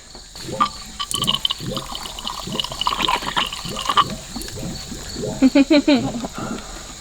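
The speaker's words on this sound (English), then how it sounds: "Totally fresh spring water from eastern Tennessee right here." Fresh spring water in eastern Tennessee splashes and trickles as it flows and pours, with gurgling bursts near the microphone, while people talk and exclaim over it.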